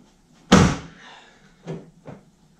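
A 2009–2018 Ram truck headlight housing pops out of its socket, pried loose with a plastic scraper: one sharp, loud crack-like pop followed by two softer plastic clicks, close up and with no talking.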